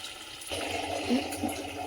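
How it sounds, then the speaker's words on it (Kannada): Water pours into ground masala for a mutton kheema gravy, a short splashing gush that starts abruptly and continues as a liquid rush with small gurgles. "ನಮ್ಮ ಕನ್ಸಿಸ್ಟೆನ್ಸಿಗೆ ಎಷ್ಟು ಬೇಕೋ ಅಷ್ಟು ನೀರನ್ನು ಆ್ಯಡ್ ಮಾಡ್ಕೊಳ್ಳೋಣ"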